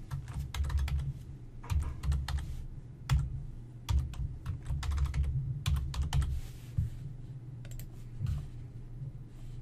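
Computer keyboard keys are typed in quick irregular bursts while entering a password on a desktop PC, the clicks close and clear over a steady low background hum with no talking.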